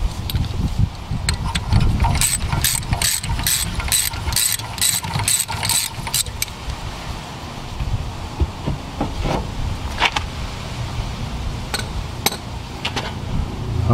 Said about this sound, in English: So you can go ahead and remove this set screw all the way out as well.